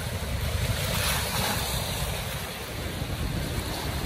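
A tidal bore (bono) surges up a river in a continuous, rushing roar of turbulent water, with heavy wind buffeting across the microphone throughout.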